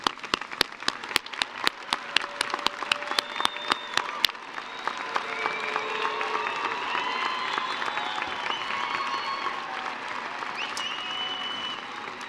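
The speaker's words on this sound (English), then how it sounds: "let's give them all a round of applause" Audience applause at a University of Idaho winter commencement ceremony begins with a few sharp separate claps, then swells into sustained, dense clapping across a large indoor crowd.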